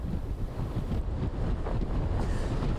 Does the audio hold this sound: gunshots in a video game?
no